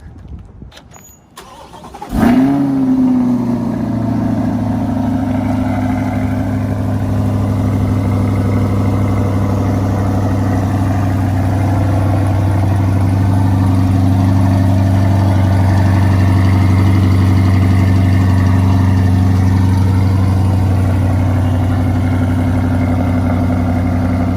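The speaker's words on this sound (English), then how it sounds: "it's a little cold start for you guys" A red supercar with a carbon fibre front splitter cold-starts with a sharp crank and bark, then settles into a loud, steady, deep idle that holds unbroken.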